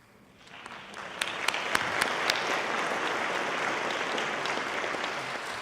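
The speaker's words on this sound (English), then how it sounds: "Don't applaud yet." Audience applause for a campaign donor at a college tribute event swells from quiet within the first second into sustained, even clapping from a large crowd, with a few sharp individual claps standing out near the start.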